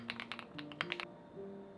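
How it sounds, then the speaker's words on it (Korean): Quick keystrokes on a white translucent Transition106 custom mechanical keyboard: a short, close burst of firm clacks in a brisk, uneven rhythm that stops abruptly, leaving a faint background hum. "바로 타이핑부터 해보는데요."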